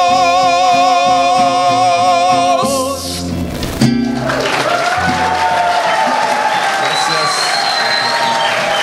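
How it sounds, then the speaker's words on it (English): A church audience breaks into applause and cheering right after a mariachi song, the final sung and played notes cutting off into a loud, dense wash of clapping with a few whoops. "that's such a nice applause."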